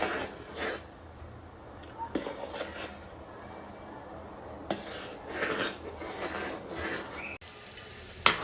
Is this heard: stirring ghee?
yes